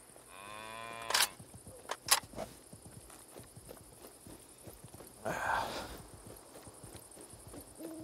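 A cow in the shooter game Sniper: Ghost Warrior 3 gives one clear, drawn-out moo near the start. Faint thuds and footstep-like clatter and a brief rustling burst follow, and there is no talk.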